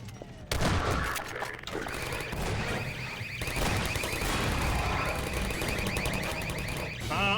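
Automated turrets in Half-Life 2 fire a long, dense stream of rapid shots, with sustained loud, harsh chatter and crackle, sometimes rattling in a rhythmic pattern, running almost the full length.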